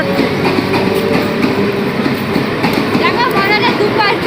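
A train rolls past on the tracks, a steady loud rumble with rhythmic clickety-clack from the wagons throughout, and a faint voice underneath.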